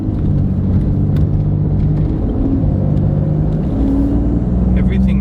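Lifted Ford Raptor rolling down a bumpy road, a steady low engine and road rumble filling the cabin, with occasional knocks and rattles over the surface and a voice speaking over it.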